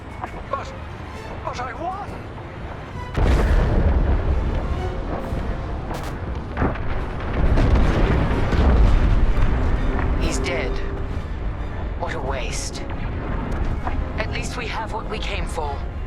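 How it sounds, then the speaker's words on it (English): A frigate blows up in Star Wars: Squadrons, a heavy booming eruption that swells and rumbles for several seconds amid laser fire and other battle noise, with voices speaking over it. "The frigate is about to explode."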